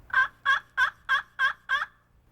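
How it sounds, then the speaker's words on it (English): Six evenly spaced wild turkey yelps during breeding season in a steady rhythm, loud and close, over a quiet low hum. "they like to hear loud yelping"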